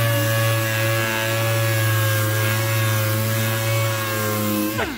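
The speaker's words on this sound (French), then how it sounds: "Je vais passer un coup de ponceuse et tu vas voir la différence." A power sander runs over the painted body of a classic French car, giving a loud, steady whirring drone throughout that winds down abruptly just before the end.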